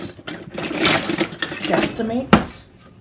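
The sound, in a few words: adding flour to oil in a bowl with measuring cup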